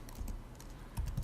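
Short burst of quiet clicking on a computer keyboard, a few irregular keystrokes close by with a quicker cluster near the end, no talking.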